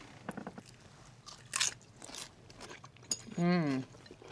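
Crunchy chewing of sweet potato hash, close-up bites and crunches scattered among quiet mouth sounds, with a brief vocal murmur near the end.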